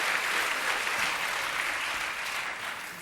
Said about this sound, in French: Applaudissements, excusez-moi les gars.